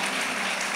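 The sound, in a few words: audience applauding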